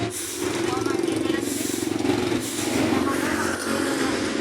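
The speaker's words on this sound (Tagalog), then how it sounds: "Dito lang kami sa ano, malapit sa highway. Dinadaanan ng sasakyan." Trucks and other vehicles rumbling past on a nearby highway beside a school, a continuous engine roar with a faint hiss, heard from close by.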